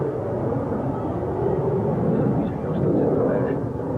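Hawker Siddeley Harrier jet aircraft at an air show, a loud, steady broadband jet roar held close and unbroken, swelling slightly toward the end.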